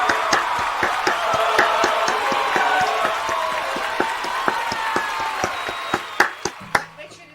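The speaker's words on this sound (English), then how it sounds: "So a big round of applause for Ty as well." A round of applause for Ty, scattered clapping from a small group, near and moderately loud, with murmured voices and a few sharp claps standing out as it fades at the end.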